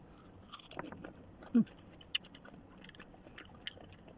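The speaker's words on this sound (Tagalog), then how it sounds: "Kain po tayo ng bayabas." Fresh, crisp guava dipped in apple cider vinegar and salt is bitten and chewed close to the mic, with one sharp crunchy bite among faint, quiet chewing sounds.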